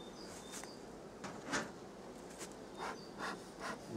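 Calm honeybees at a hive newly settled by a travelling swarm, a low steady hum of many bees with a few closer buzzing passes and faint wooden knocks from the hive, fairly quiet.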